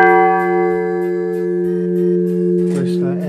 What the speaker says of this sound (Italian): Questa è la seconda campana, questa è la prima, ascoltiamone appena appena il suono